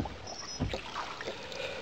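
A canoe is paddled at a leisurely pace on a lake. Soft, quiet dips and gurgles of water come from close by, with a small splash partway through and no talk.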